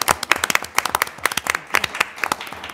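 Applause at a school board meeting: a small group claps in quick, uneven bursts, fairly close and steady, with no voices over it.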